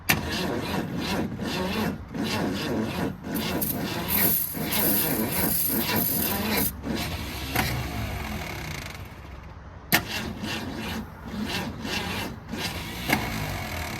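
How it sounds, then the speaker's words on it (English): An old Ford Falcon engine cranks over on a new starter, a steady rhythmic churning that keeps turning without catching, briefly stalls near the end, then resumes cranking. "I think as soon as it feels like it's going to fire, it kicks that starter back."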